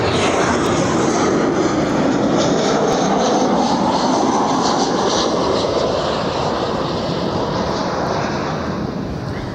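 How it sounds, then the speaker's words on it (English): Norwegian Boeing 737-8 jet arriving at Barcelona, a loud, sustained engine roar and whine close by, slowly fading toward the end, with no talk. "From Stockholm, Arlanda, 11-year-old Boeing 737-8."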